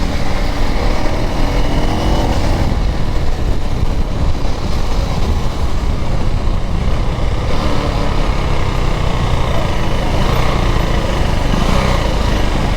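A KTM Duke 390 third-generation motorcycle fitted with a quick-shifter riding along, its engine and wind roar loud and constant throughout with no talk.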